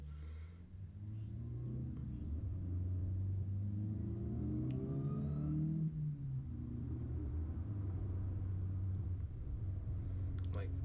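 A MercRacing-tuned Honda Civic Si accelerates hard from inside the cabin, its engine note climbing steadily in pitch for several seconds before easing off into a lower, steady cruising hum.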